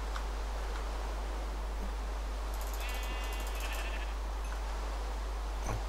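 Minecraft sheep bleat in a short burst of synthetic calls amid a steady hiss, with a faint click or two and no talk over them.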